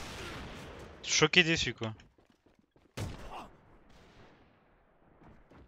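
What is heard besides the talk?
sniper rifle shots in the video game A.V.A Global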